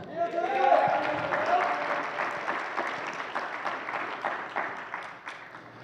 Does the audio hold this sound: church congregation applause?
yes